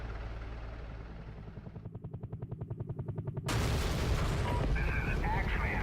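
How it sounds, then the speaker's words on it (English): A TOW vehicle in a military video game fires on a target at the far end of a runway: a low rhythmic rotor-like pulsing that quickens, then a sudden loud burst of rumbling blast noise that stays dense to the end. "that will start firing on the target down at the end of the runway"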